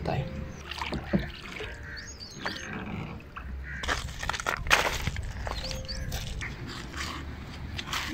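Boat ride on the Indus River near Attock, Pakistan, a steady engine and water rumble under people talking, with some bumps and louder splashes partway through.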